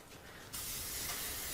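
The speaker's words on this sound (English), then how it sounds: "make sure we spray our pan" Cooking spray hisses from a can onto a baking pan for biscuits, a soft hiss that jumps to a steady, louder spray for about a second, close up and without talk.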